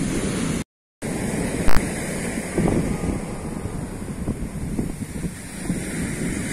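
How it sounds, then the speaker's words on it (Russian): Ocean waves break on a shore in a steady, rushing wash, with swelling surges and strong wind buffeting the microphone throughout. "Волны красивые."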